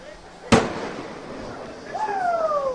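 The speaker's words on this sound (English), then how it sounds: "There's another firework going off." A firework goes off near a men's college soccer match, a single sharp, loud bang followed by a fading hiss, then a faint rising tonal whine later over steady background noise.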